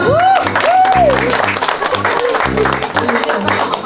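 Audience clapping at a ribbon cutting for a new housing turnover, loud and continuous, mixed with music and a voice speaking over it.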